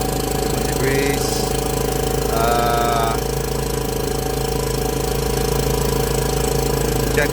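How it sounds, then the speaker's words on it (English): A Komatsu forklift engine runs at a steady idle with a loud, constant, even mechanical drone and rattle that never lets up. "the engine starts up fine"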